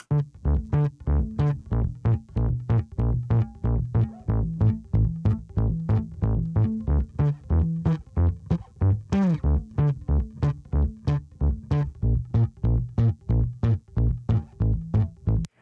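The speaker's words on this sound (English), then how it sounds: "this is where you would really hear the saturation from the distortion curves" A bass guitar run through a Kiive Audio Distinct Pro distortion plays a steady, repetitive riff of punchy plucked notes, saturated, loud and upfront throughout.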